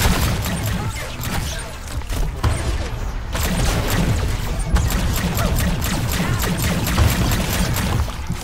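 Sustained loud gunfire from a sci-fi first-person shooter, High on Life, forms a dense, continuous barrage of rapid crackling shots and impacts with no pauses.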